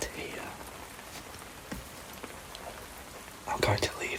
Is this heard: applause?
no